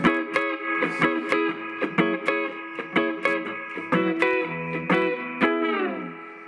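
Clean electric guitar through a small Polytone solid-state amp, playing a series of plucked notes and chords with bright, ringing sustain, steady rhythmic attacks, no voices.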